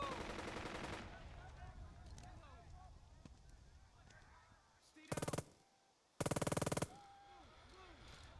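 Bursts of machine gun fire from a Burden of Command World War II game: two sharp, loud rapid volleys near the end, over a low battlefield ambience with faint scattered shots.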